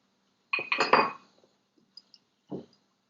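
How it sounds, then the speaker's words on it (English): Ice cubes clink in a glass as an iced drink is made, with a quick cluster of bright, close rattles at first, then a few small ticks and one last clink after a short pause. "I'm gonna make an iced one today, so I use some ice cubes"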